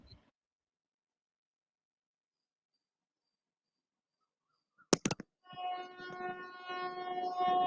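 A train passes nearby, heard after a long near-silence as a few sharp clatters followed by a steady, rising rumble with a sustained horn-like tone, growing louder toward the end.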